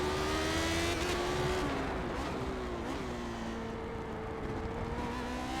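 A Lotus 79 race car in the iRacing sim at VIR drones loudly with a steady, buzzing engine note that rises and dips as the driver shifts and lifts, sustained and close throughout.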